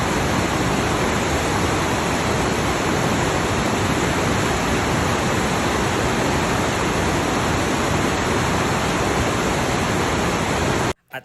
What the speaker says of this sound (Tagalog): nakaka-relax yung agos ng tubig